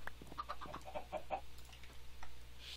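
Several chickens in the Minecraft modpack FTB Infinity cluck in short bursts, close and fairly quiet, over a low electronic hum, tapering off toward the end.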